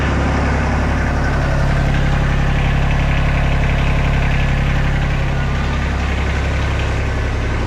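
A UTV engine running after a cylinder head replacement, idling steadily with a loud, continuous rumble and even mechanical chatter close by, no voices.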